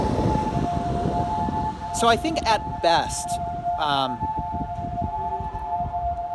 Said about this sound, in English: another ambulance. Whenever I stand here, ambulances come by.